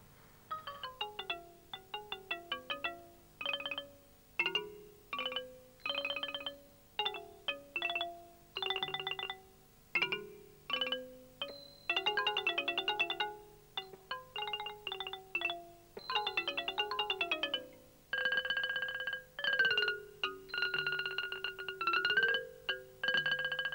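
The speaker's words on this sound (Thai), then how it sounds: "ขอเชิญรับฟังเดี่ยวระนาดเอกเพลงทะแยเถาทางท่านครูหลวงประดิษฐ์ไพเราะ" A Thai ranat ek xylophone plays a solo of the piece Thayae Thao, with rapid bright wooden strikes in flowing runs, trills and sustained tremolo passages, clear and close throughout.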